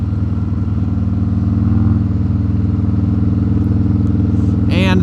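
A 2020 Harley-Davidson Road Glide Special engine rumbles steadily at close range, a deep pulsing V-twin throb with a faint clatter, holding even before a brief higher rasp near the end.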